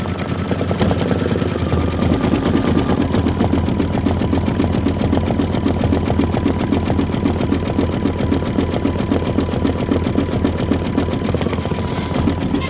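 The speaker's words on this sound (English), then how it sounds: "go ahead and hit start and let it do the satin on the outside" An embroidery machine stitches a satin border on a bench pillow, a loud, steady rapid needle chatter running continuously and close up, with no talking.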